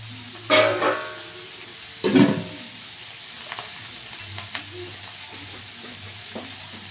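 Chayote and green beans for chop suey hit a hot pan as a splash of water goes in, giving two short, loud bursts of sizzling near the start, then quieter scattered crackles and stirring with a faint low hum beneath.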